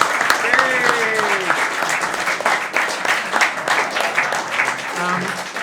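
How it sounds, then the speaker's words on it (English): An audience applauds steadily, a dense wash of clapping sustained throughout, with voices calling out over it. "Please, a big round of applause for Michael and Will and their smoke machine"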